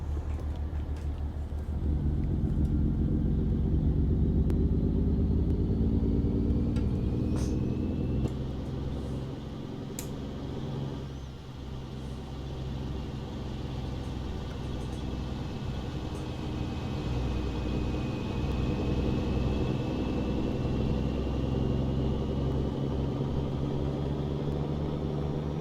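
Steady low engine drone of a 1985 Chevy Bison truck in a driving game, a continuous rumbling idle that rises slightly and holds, with a faint whine sweeping above and a few brief clicks, no talking.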